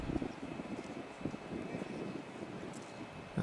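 An electric model Chipmunk airplane taxis on the ground, its motor giving a faint, steady whir under broad outdoor wind rumble, with a few soft bumps along the way.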